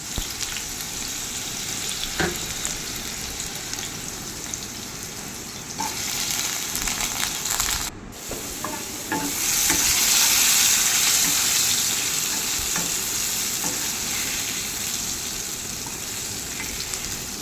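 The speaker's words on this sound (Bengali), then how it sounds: "চচ্চড়ির মতো করে কাটা আলুগুলো আমি ছেড়ে দিচ্ছি নিয়ে আলুগুলো একটু ভাজা ভাজা করে নেবো" Steady crackling sizzle of cut potatoes frying in hot oil, continuous and fairly loud, with occasional pops and a brief louder hiss midway.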